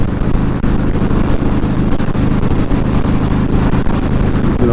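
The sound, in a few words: old car engine running at highway speed, 3,500 RPM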